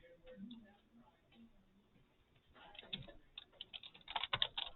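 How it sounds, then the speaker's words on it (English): Quiet clicking of computer keyboard typing, sparse at first and then quicker and denser, after a stretch of faint talk. "I think I'm going to have to type some stuff here"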